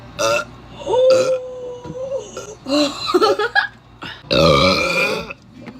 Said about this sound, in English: How do you burp like that?